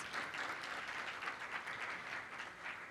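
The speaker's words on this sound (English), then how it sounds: "Please give Rodney a round of applause." An audience at a panel event on minority and female-owned businesses gives a steady round of applause. The clapping is even and continuous but fairly faint, as if heard from across the room.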